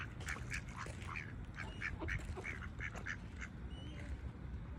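Ducks quack in a rapid series of nasal calls over a low rumbling background, fairly faint and moderately distant, with no talking.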